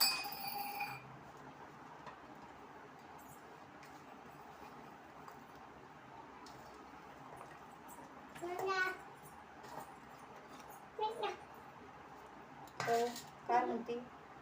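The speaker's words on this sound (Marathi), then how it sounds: "मी ग्लासात टाकतीये कारण की मी झाल्यावरती त्याच्यातच ठेवते" Garlic and chilies dropped into a glass for pounding a dry chutney, giving a few light clinks and taps against the glass, fairly faint over a quiet room with occasional background voices.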